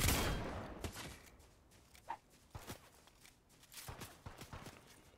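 Several sharp shotgun blasts from an in-game weapon in Fortnite Tycoon, spaced irregularly with a heavy opening shot, amid light game noise and footsteps.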